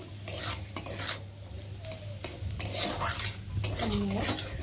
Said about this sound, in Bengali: আর এখন আলুর সাথে এটাকে ভালো করে ভেজে নেব